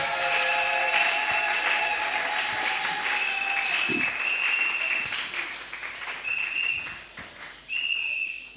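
A church congregation claps hands steadily throughout, a dense sustained wash of applause mixed with sustained whistling and a few shouts, loud and close.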